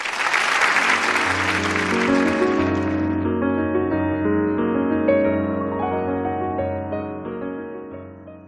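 Audience applause welcoming a Suzhou Pingtan storytelling performer on stage, a dense, steady clapping that gives way after about three seconds to sustained plucked string instrument notes, with the clapping tapering off underneath.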